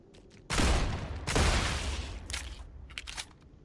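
Rapid gunfire from a sci-fi weapon in the game StarRupture: two loud bursts of shots in quick succession, each trailing into scraping, rattling tails, followed by a few fainter clicks and pops.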